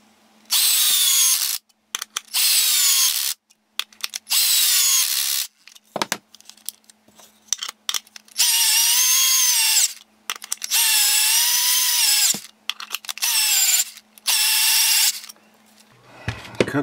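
A cordless drill spins a Drillpro hex socket bit in repeated bursts of high whining, separated by short pauses and small clicks, close and loud.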